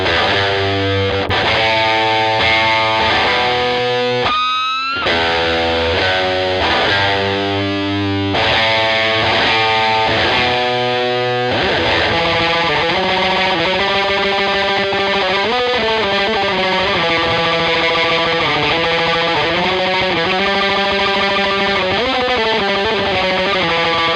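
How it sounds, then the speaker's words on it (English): Heavily distorted electric guitar plays a part, loud sustained chords shifting between sections after a brief break, with the same thick distortion throughout and no voices. "That whole section, that whole part, it's the same amount of distortion."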